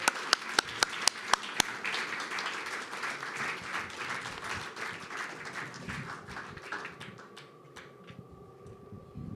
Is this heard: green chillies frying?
no